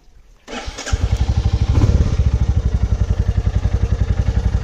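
A motorcycle engine is cranked and catches after a brief mechanical rattle, then settles into a loud, close, steady pulsing idle that continues to the end.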